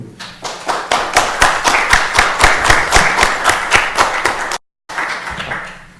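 Conference audience applauding at an academic colloquium on internet governance, a close, rhythmic burst of hand claps that swells quickly, holds steady, then cuts out briefly and trails off.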